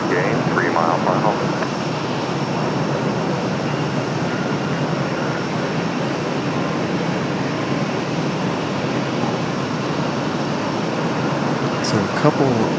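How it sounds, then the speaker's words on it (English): An American Airlines Boeing 777 on final approach into Raleigh-Durham from the east, a loud sustained jet roar and rumble filling the stretch, with brief talk at the start and end. "the American 777 coming in from the east, trying to avoid all of the weather just to the north of us"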